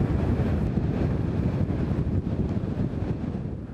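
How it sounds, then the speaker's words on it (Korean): Strong wind blows at minus 29 degrees on the weather-station peak near Heaven Lake, making a constant, loud, low roar that buffets the microphone from start to finish with no voices. "거기에 엄청나게 불어대는 바람."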